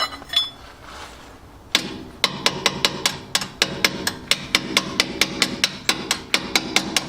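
A wrench taps on a rear 4-link suspension part of an off-road vehicle: sharp metallic clinks, one alone, then a steady series of close, bright taps in an even rhythm.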